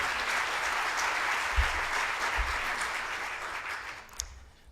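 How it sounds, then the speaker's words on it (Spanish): Audience applause following a call to clap for two presenters at a workplace health and psychoemotional wellbeing event, steady dense clapping filling the room throughout before thinning out near the end. "Les pido un aplauso para José Manuel Sebastián Vicente y para David Piélago"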